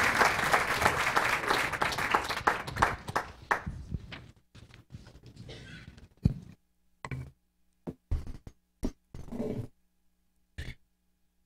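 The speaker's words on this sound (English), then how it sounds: "Please give Melanie a round of applause." Audience applause at an early childhood conference: a dense burst of clapping that thins out into scattered claps and then stops, with no talk.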